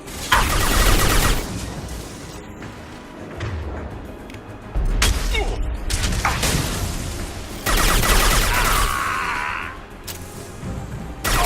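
Gunfire during a firefight in Mass Effect 2, with bursts of shots and booming impacts coming in several loud waves separated by quieter stretches of background din.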